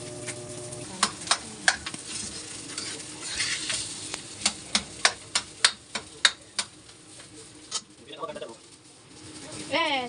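Carrots sizzle in a pan while a utensil knocks and scrapes in a quick run of stirring strikes, with pigeons cooing nearby toward the end.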